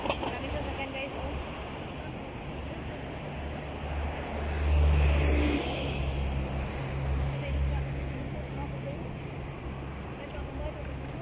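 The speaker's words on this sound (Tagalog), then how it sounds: "Maraming sasakyan, guys." Cars passing on a street in Qatar, heard during an evening walk as a steady traffic rumble that swells as one vehicle goes by near the middle. A voice talks over it throughout.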